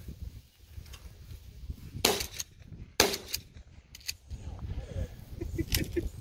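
Shotgun blasts at a skeet shoot, comparing a Mossberg and a Benelli: two sharp, loud reports a second apart, followed by a few fainter pops over outdoor wind and low background chatter.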